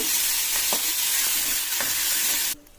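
Chopped tamarind leaves fry in a pan with a loud, steady sizzle broken by a few stirring scrapes, then the sound cuts off sharply.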